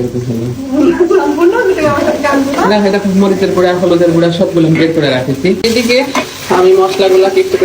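Onions fried until reddened sizzle steadily in a pan while being stirred, with a voice talking loudly over the cooking throughout.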